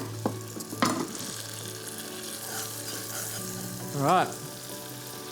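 Butter melting and sizzling in a frying pan, a steady soft crackle with a few clinks and scrapes of a utensil; a voice speaks briefly.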